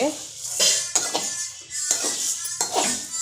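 Vermicelli (semiya) dry-frying in a pan with no oil, stirred with a utensil: repeated scraping and clattering strokes against the metal pan, close and fairly loud, in an irregular rhythm with no voice over them.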